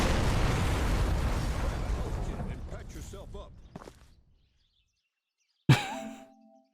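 A video-game explosion from United Assault Normandy '44 during an explosives test: a loud rolling blast that decays over several seconds into silence, then a sharp second pop with a brief ringing tail.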